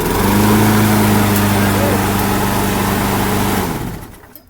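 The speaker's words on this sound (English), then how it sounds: "Here, this is my lawnmower that still works." A Craftsman pull-start lawnmower engine runs steadily at close range with a loud, even drone for about four seconds, then cuts out and fades away.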